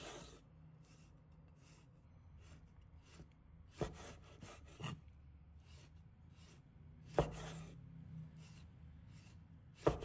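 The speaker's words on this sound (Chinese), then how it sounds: "在鱼肉表面切上花刀，深度大约为1厘米，但不要切断，到第3刀时再切断" A knife scores a sea bass fillet on a cutting board with soft scraping strokes and a few sharp taps as blade meets board, quiet and close, no speech.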